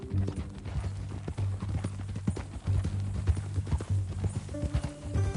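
Horse hooves clip-clop in Red Dead Redemption 2, a steady walking rhythm of soft hoof falls over a low ambient bed, with a faint whinny-like tone near the end.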